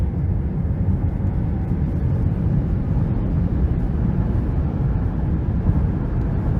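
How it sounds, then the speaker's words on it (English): A 2023 Nissan Ariya Empower+ electric car accelerating, heard from inside as a steady, loud broadband rush of road and wind noise with no engine note and no talk. "Let's give it some throttle here."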